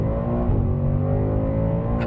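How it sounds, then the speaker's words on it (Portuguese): A Ford Mustang Dark Horse V8 engine revs steadily with a deep, rumbling exhaust note set to its loudest mode, held at high revs throughout with no talking. "Escapamento também quero deixar no modo mais barulhento possível."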